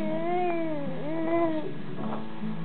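A pet cat named Chloe meows repeatedly up close, its drawn-out, rising and falling cries coming in several bursts with no talking over them.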